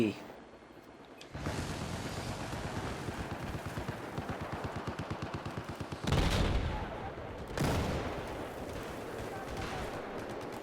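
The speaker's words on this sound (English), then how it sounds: "The Tunguska. Those mobile AA tanks are OP." A Tunguska mobile anti-aircraft tank firing in Battlefield 4: a long rapid stream of cannon rounds in an even rattling rhythm, then two louder separate blasts, with a low rumble beneath and a voice talking over it.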